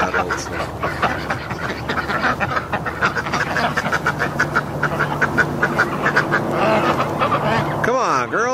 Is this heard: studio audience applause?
no